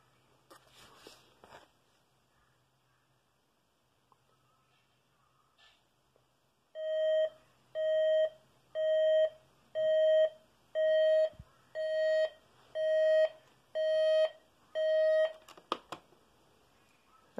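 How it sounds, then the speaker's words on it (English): After some faint handling noises, a Zenith Z124B dual alarm LED clock radio gives a series of nine evenly spaced electronic beeps, each held for about a second, clear and close. "This is the first time I should test this alarm."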